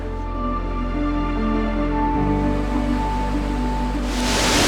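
Woodland waterfall with small side streams, a continuous rushing wash of water under a sustained tonal drone, swelling louder and brighter near the end.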